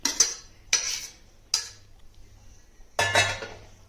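Drained, cooled sweet corn going into a bowl for a wedding-style South Indian sweet corn salad, heard as four separate clattering spoon-and-bowl clinks and scrapes, each sharp at the start and then fading, spaced about a second apart.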